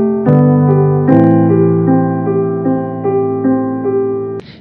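Piano plays the bottom part of a duet: a sequence of sustained low notes and chords struck one after another at a slow, even pace, loud and close with ringing decay.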